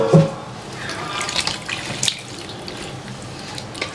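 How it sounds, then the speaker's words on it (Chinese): Tap water runs steadily into a sink while kidneys and lamb are rinsed, a close, continuous splashing stream with a few brief louder splashes. "加水、洗一下。"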